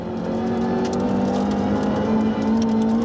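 Rally car engine at full throttle on a forest stage, a loud steady roar with a brief dip as it shifts up into sixth gear before the drone climbs again, heard close with no talking.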